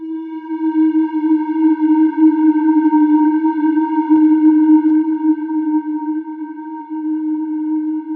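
A sustained synth tone from Serum 2, run through diode distortion, holds a steady buzzing pitch with a stack of bright overtones and a slight pulsing flutter throughout.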